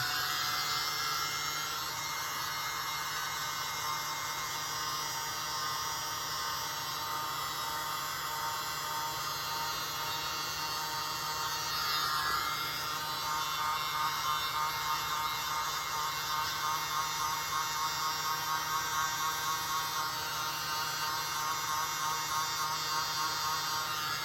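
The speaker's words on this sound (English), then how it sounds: "my world's smallest leaf blower" A tiny motorized air blower, used to blow acrylic paint, whirs steadily and high-pitched for a long stretch, a constant buzzing hum that barely changes.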